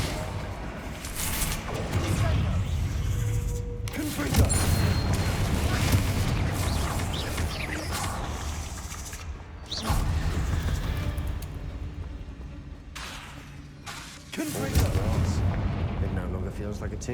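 Confringo blasting spells detonating in Hogwarts Legacy, a run of deep booming explosions with rumbling tails that swell, fade and burst again over dense game ambience, while a voice speaks now and then.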